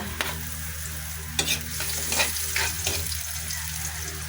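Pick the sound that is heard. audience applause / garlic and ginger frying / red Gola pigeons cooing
garlic and ginger frying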